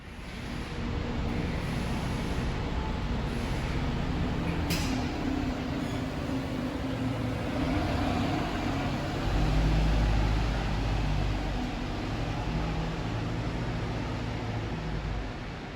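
A bus pulls out of a Newcastle interchange bus station, a continuous low engine rumble swelling mid-way under broad traffic and station noise, heard at a moderate distance with no speech.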